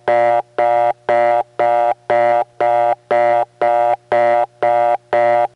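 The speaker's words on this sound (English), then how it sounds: "here's that very same reorder coming from the very same tone plant in the step context" Reorder tone from a Bell No. 1 step-by-step telephone switch in Raleigh, NC, 1979: a loud, steady fast busy signal of about ten even on-off buzzing bursts, roughly two per second, with no talking.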